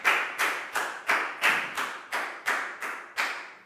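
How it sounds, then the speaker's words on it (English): Rhythmic applause for a pupil in a Year 4 English class, heard as a steady run of about ten evenly spaced claps, close and fairly loud, with nothing else around it. "a big round of applause for Pangpon"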